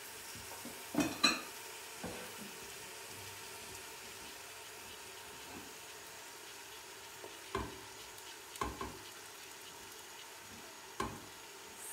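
Meat for a tajine sizzles in a pot under a faint steady hiss, broken by occasional scraping stirs and clinks of a utensil against the pot, fairly quiet, no talk.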